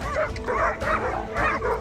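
Pack of dogs barking at a leopard, a rapid series of close, loud, yelping barks in quick bursts, with overlapping voices and no talking.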